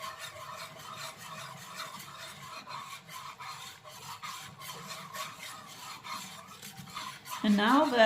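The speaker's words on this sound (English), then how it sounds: "Just trust the process, keep stirring." A gumbo roux being stirred in a Dutch oven, a continuous close scraping and rubbing of a utensil against the pot bottom, steady and fairly quiet, with a brief louder clatter at the very end.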